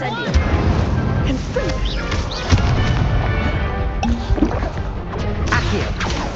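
Spell blasts crackle and boom in repeated bursts during a Hogwarts Legacy duel, with Incendio fire among them, while a voice shouts spell names over the chaotic impacts.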